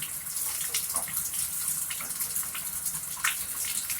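Shower water runs steadily, with a close, hissing spray and irregular splashes throughout, and no voices.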